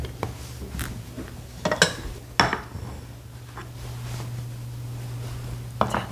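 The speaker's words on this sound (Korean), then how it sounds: "이때 키친타올 이용하셔서요, 프라이팬 깨끗한지 확인 한번 해보겠습니다" A new frying pan is wiped with a kitchen towel while a cooking-exam dish is prepared, giving soft rubbing and rustling with a few sharper clinks and knocks of cookware, close by, over a low steady hum.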